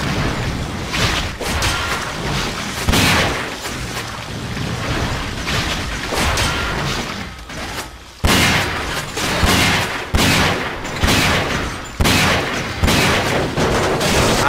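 Dense, loud gunfire and booming blasts from a modded Resident Evil 4 game fill the mix in sustained, overlapping bursts, with sharp shot onsets punching through the constant roar and no voice heard.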